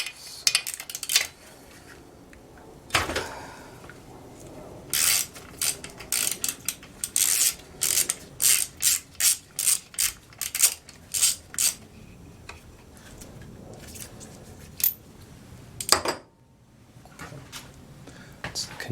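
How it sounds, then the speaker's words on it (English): Socket ratchet removing the 5/8 spark plug from a Craftsman string trimmer, a close run of rapid clicking bursts in a steady rhythm with a few heavier clunks of metal tools between them. "let me get a socket, pull that off"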